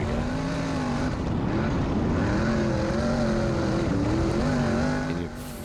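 A sprint car's engine revs hard and steadily as it pulls away, at about 8,500 RPM and around 110 decibels, a loud, continuous roar with rising and falling pitch that drops off at the very end.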